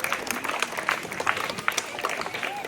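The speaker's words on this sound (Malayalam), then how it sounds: "സെയിം സെയിം ആണെങ്കിൽ കൈയടിക്കാം" A school audience at a maths talents awards event breaks into scattered, moderately loud clapping that continues unevenly throughout, with a faint murmur of voices beneath.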